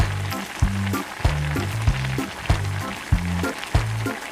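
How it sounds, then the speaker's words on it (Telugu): Onions and chopped tomatoes frying in a pan for an omelette curry and being stirred, a steady sizzle broken by regular low scraping strokes about every half second, close and fairly loud, with no voices. "వేసుకొని ఒకసారి బాగా కలుపుతూ వేపుకోవాలి."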